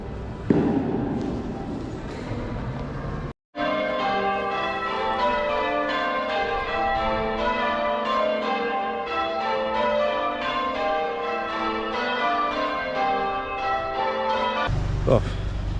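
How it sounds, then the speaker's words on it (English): The church bells of Beverley Minster peal loudly and continuously, a dense overlapping clangour of many bells ringing in steady succession with a brief gap near the start, and a voice is briefly heard at the opening. "those church bells were coming from the Minster and they were incredibly loud once you left the Minster"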